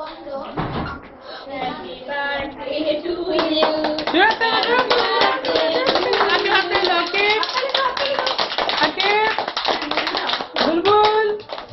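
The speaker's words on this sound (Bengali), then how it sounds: "আকিব জোরে হাততালি দিও" A small family group claps along at a home birthday cake cutting, rapid uneven hand claps building after a quiet start, mixed with excited children's and adults' voices talking and calling out over them.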